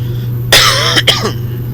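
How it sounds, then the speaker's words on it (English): A man recovering from a cold coughs and clears his throat in one short burst, followed by a couple of quick rasping throat sounds, loud and close over a steady low hum with no speech. "I'm going to be coughing throughout the video"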